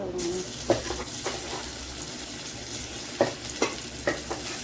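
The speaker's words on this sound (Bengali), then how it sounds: "এখন তেলের উপরে একটুখানি জিরে, লঙ্কা এসব দিয়েছি" Cumin seeds and chilli sizzling in hot oil in a small home kitchen pan, a steady low crackle broken by a few sharp spits and pops.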